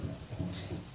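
Marker or chalk strokes on a board in a classroom during a geometry lesson on circles, a short scratchy run of writing with low room noise and no talk.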